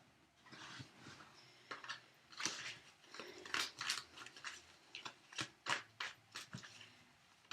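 Tarot cards are shuffled in a run of crisp, papery riffles and taps that come in quick irregular bursts, close up and with no talking.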